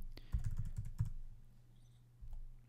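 Several quick keystrokes clatter on a computer keyboard during coding work in Xcode, a short burst of close clicks, then a pause and one more soft tap.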